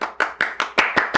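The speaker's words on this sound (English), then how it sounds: "clap it up, everyone. I applaud you for being so progressive." Several people clap their hands in a loose, uneven rhythm, about six sharp claps spread over a second, close and fairly loud with no talking.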